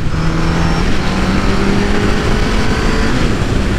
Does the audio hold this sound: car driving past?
yes